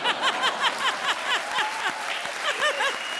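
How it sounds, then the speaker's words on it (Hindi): An audience in a comedy show applauding, steady rhythmic clapping for about three seconds, fairly loud and close, with faint chuckles mixed in. "आप ताली बजा रहे हो?"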